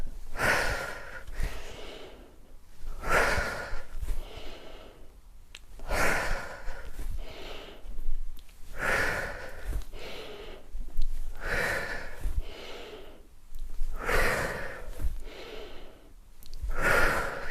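Deep, rhythmic breathing during a lymphatic drainage workout, with loud forceful exhales and inhales repeating roughly every two seconds, close and steady throughout without speech.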